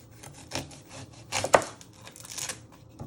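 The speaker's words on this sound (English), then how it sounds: "Now you're going to chop your onion to prep your vegetables for your toppings." A knife chops the ends off an onion on a cutting board, several close, wooden knocks with one sharper, louder strike in the middle.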